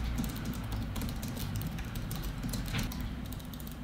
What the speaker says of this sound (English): now the same sentence typed on my old keyboard